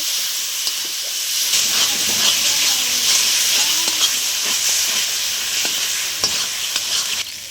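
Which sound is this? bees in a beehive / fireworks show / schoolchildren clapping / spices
spices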